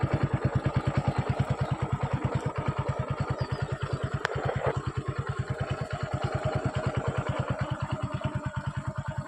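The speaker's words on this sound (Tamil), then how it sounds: "வண்டி தொட்டாவே செல்ஃப் எடுக்கும். Dutch start." A single-owner 2019 model motorcycle idling after a touch self-start, its engine chugging in an even, rapid rhythm of low pulses throughout, close and steady, with a faint click partway through and no speech.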